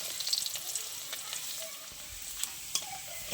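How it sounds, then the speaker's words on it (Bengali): Chopped garlic sizzles in hot oil in a pan as it is fried until reddish, a steady crackling hiss with a few sharp pops and faint stirring, fairly quiet and without talk. "আমি রসুনটা একটু লাল লাল করে ভেজে নেব"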